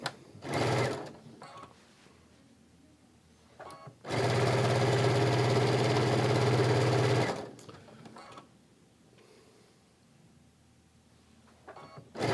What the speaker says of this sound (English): I'm just going to sew this side on.